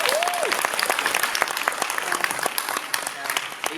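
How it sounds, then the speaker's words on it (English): Audience applause at a San Diego Comic-Con TV writing panel, dense and sustained clapping from a large crowd, fairly loud and continuous throughout, with a few faint voices mixed in. "Please give him a round of applause."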